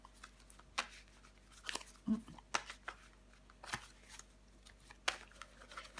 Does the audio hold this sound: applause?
no